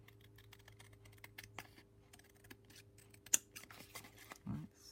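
Scissors snip through a thin book page in a quick series of crisp cuts, with light paper rustling between them, close up and otherwise quiet.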